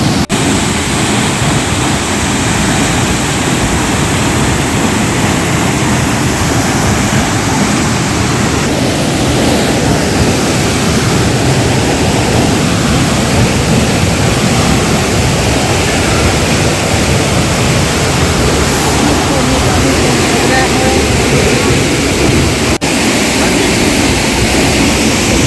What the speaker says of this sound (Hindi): इतनी तेज़ पानी की आवाज़ आ रही है, आपस में भी बात करना मुश्किल हो रहा है।